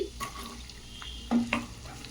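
Chopped onion frying in a pan with a steady low sizzle, punctuated by a few spoon stirs and scrapes, close and moderately loud.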